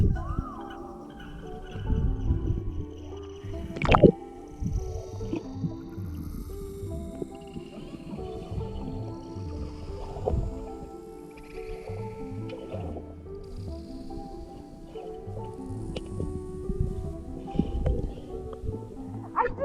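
Underwater in a swimming pool while diving toward the bottom, muffled low rumbling and sloshing with bubbly swishes and occasional sharp knocks, dense and murky throughout.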